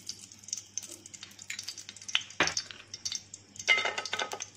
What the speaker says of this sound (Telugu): పాన్ పెట్టుకుని హీట్ అయిన తర్వాత 2 టేబుల్ స్పూన్స్ నెయ్యి వేసుకుందాము.